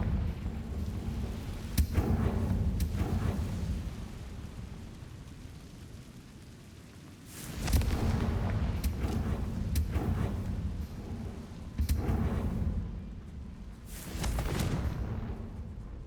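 Fiery Confringo spell blasts in Hogwarts Legacy, loud booming bursts near 2, 7.5, 12 and 14 seconds over a constant low rumble, with no talking.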